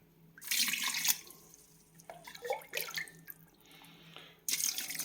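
Brine is poured over meat in a barrel for curing, coming in three close, loud bursts of splashing, gushing water with short quieter pauses between them.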